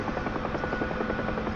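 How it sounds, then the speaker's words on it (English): A Huey helicopter flies in a flight simulator game, its rotor and turbine making a steady, loud, dense drone with a fast rhythmic thump throughout. "It's a helicopter"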